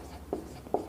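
Chalk or marker writing on a board during a chemistry lesson, two short faint scratchy strokes against a quiet room.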